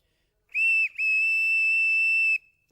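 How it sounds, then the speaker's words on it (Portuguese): A small railway station master's whistle is blown close and loud in two blasts: a short shrill toot, a brief break, then a longer sustained piercing tone that cuts off cleanly. "Vamos ver se isto ainda apita."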